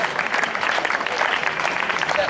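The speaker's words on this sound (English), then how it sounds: "give him a round of applause" A crowd at a men's 5000m track race in Solihull applauds steadily, loud dense clapping, while an announcer talks over it.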